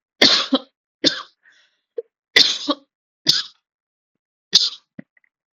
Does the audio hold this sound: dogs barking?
no